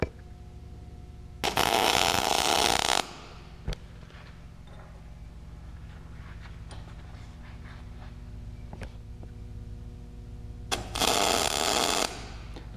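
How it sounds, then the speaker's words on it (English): Tack welding on metal bars for a blacksmith-made candle holder cage, two loud sustained bursts of crackling arc noise a few seconds apart, with quieter workshop handling sounds between them. "I'm gonna go ahead and tack these on, which is a slight weld right on my mark"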